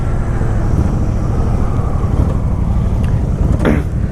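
A Honda chopper-style cruiser motorcycle rumbles steadily with a deep, continuous engine drone, loud and constant throughout and without any clear revving.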